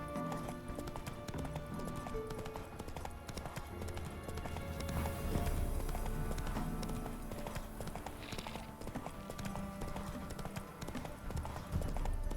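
The horse Roach gallops in The Witcher 3: Wild Hunt, a steady rapid clip-clop of hooves running on and on over a busy game soundscape, close and continuous, with a voice briefly present.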